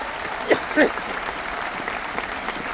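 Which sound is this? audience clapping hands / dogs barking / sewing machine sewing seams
audience clapping hands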